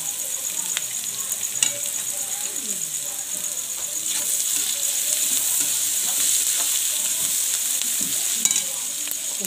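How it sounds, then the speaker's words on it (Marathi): Sliced onion and masala sizzle steadily in hot oil in a home kitchen pan, a dense continuous crackle with occasional stirring scrapes, loud and close throughout. "आता आपण याच्यात थोडं तेल टाकूया, म्हणजे कांदा छान तळल्यासारखं होऊन जाईल."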